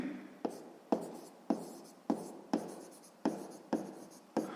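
Pen on paper writing a math solution, heard as close, regular scratchy strokes, each with a crisp tap and a short fading drag, repeating about every half second.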